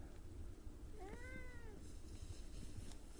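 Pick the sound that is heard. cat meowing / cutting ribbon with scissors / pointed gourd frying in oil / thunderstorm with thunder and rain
cat meowing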